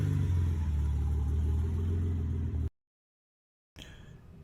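A rebuilt 1991 Dodge Stealth Twin Turbo idles loudly and close by with a steady low rumble, then cuts out abruptly to silence for about a second before the engine sound returns at a lower level.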